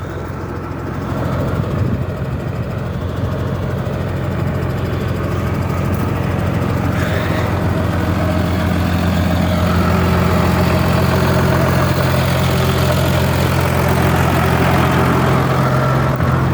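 MTZ 1523.3 tractor engine ploughing a field in clay soil, a steady loud low-pitched drone that holds constant throughout without pauses, heard close up and alone.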